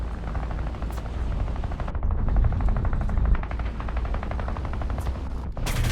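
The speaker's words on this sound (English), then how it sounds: "I think I'm being shot by the Fury now." A Hawker Fury attacks in War Thunder, its guns firing rapid, continuous bursts over a steady aircraft engine drone, fairly loud throughout.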